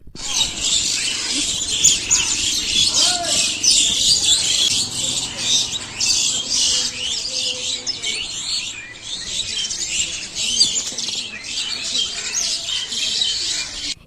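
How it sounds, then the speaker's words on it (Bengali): Many birds chirp and tweet continuously in a busy countryside chorus, bright and fairly close, with no talking. "এই প্রকৃতিতে পাখির কলরব শুনতে কার না ভালো লাগে বলো তোমরাও একটু শোনো"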